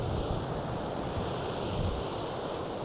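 Sea waves at Raumati Beach, New Zealand, roll in as a steady, continuous surf wash with some wind noise on the microphone, heard alone with no voices.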